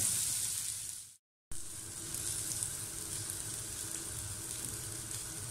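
Steady frying sizzle of beef shami kebabs browning golden in a pan, a continuous crackling hiss that cuts out briefly near the start before resuming evenly.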